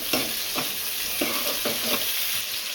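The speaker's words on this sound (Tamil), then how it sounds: "தக்காளி நல்லா வதக்கணும்." Tomatoes and onions sautéing in sesame oil for a crab gravy, with a dense hissing sizzle and rhythmic scrapes of a spatula stirring through the pan every half second or so, close and steady.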